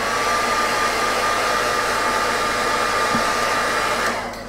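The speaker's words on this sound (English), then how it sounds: "Just want to give Julius another hit with the hairdryer." A handheld hairdryer blows a loud, steady whir while drying paint on a Knight Armiger miniature model, then cuts off abruptly just before the end.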